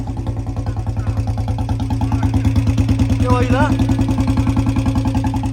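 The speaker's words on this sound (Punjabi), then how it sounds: "ਇੰਜਣ ਦੀ ਆਵਾਜ਼ਾਂ ਸੁਣ ਰਹੇ ਹੋ" A Royal Enfield Bullet motorcycle idles close by with an even, rapid thumping beat that stays loud and steady, while someone speaks briefly over it.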